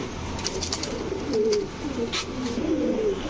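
Racing and high-flyer pigeons coo softly in low, rolling murmurs, several birds close together over a busy background of faint chatter and flutter.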